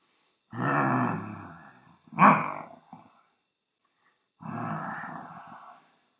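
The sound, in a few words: storyteller imitating an angry lion's growl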